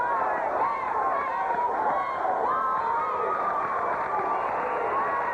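A packed gym at a 1987–88 Gate City vs Grundy high school basketball regional quarterfinal in Abingdon roars in a continuous wash of cheering and shouting, with a commentator's voice running over the crowd.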